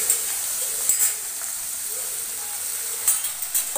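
Sliced onions with salt are sautéing in oil in a pan. A soft, steady sizzle runs throughout, broken by a few quick clicks and scrapes from stirring.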